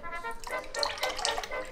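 A mixture is poured into water while making gol gappe water at home, making a short close splashing, trickling pour.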